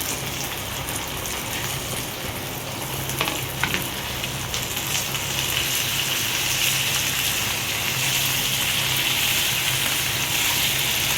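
Okra tossed into a pan over high flame fries with a loud, steady sizzle like heavy rain, holding continuous and close throughout, with a few faint clinks near the start.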